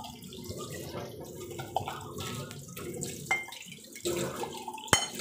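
Running tap water splashes over a personalized ceramic mug in a sink, a steady faint stream with scattered clinks and small splashes.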